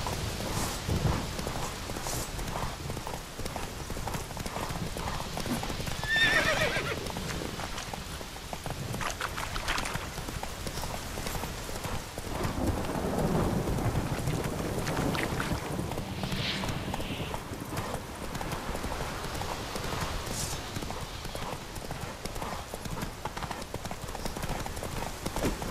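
Geralt's horse Roach gallops through rain in The Witcher 3, hooves clip-clopping steadily and continuously under a dense wash of rainfall and game ambience, with no talk.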